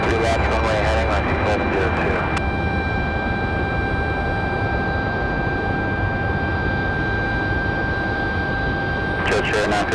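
A jet airplane taking off from runway 23 left at Raleigh-Durham International Airport, a loud, sustained engine roar with whining tones, briefly overlapped by crackly radio chatter at the start and end.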